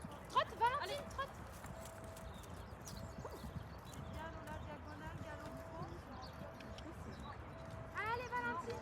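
Horse named Valentine trotting in a riding lesson, steady clip-clop hoofbeats with occasional snorts, moderately near, under an instructor's voice calling encouragement throughout.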